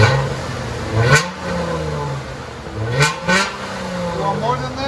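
V6 Dodge Challenger or Charger exhaust, rear mufflers in place, revved in a few short blips over a steady idle rumble; voices talk over the engine.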